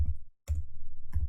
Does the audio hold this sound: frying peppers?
no